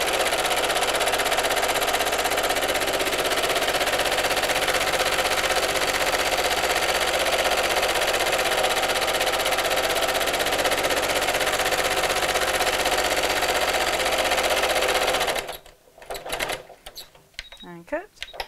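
A sewing machine stitching a Christmas bauble applique cushion runs loud and continuous with a rapid mechanical chatter for most of the time, then stops abruptly, leaving a few faint clicks and handling noises.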